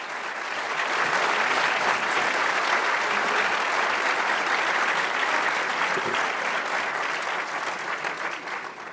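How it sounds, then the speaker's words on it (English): Sustained, dense applause from a large audience at a legal conference panel on originalism, loud and steady throughout before tapering slightly at the end, with no talk over it. "So please give them a round of applause."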